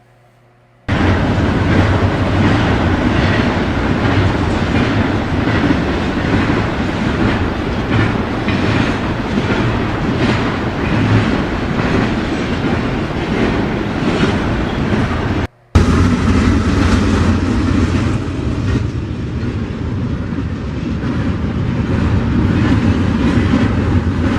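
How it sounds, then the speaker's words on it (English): Intermodal freight train locomotives roll past with a loud, steady rumble and rhythmic clatter of wheels on rail, continuous and close for the whole stretch apart from a brief cut near the middle. "It's a good shot of those locomotives going over there."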